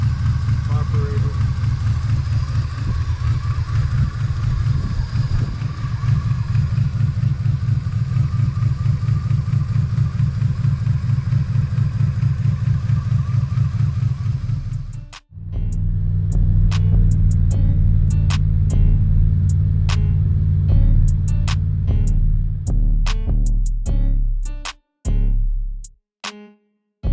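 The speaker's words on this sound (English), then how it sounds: "Muffler got a hole in it." A 1979 Chevrolet Malibu coupe engine with a holed muffler idles with a loud, steady rumble, cuts out abruptly, then restarts with a throbbing idle and sharp ticking clatter before stopping again near the end.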